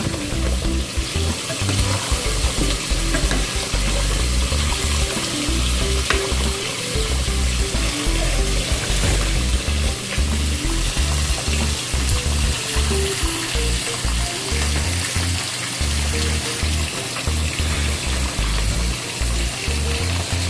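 Mung bean stew with beef bones bubbling at a hard boil in a pot, a steady, dense simmering and sizzling wash that runs continuously up close with no talking.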